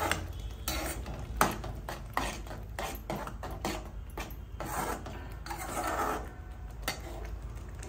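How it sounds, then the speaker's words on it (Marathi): Vegetables for pav bhaji being stirred and sautéed in a pan on a gas stove, with steady scraping and rasping from a spatula, rhythmic clinks against the metal, and a soft sizzle underneath. "आता ह्याच्यातलं थोडं लालसर जोपर्यंत परतून घेऊया याला."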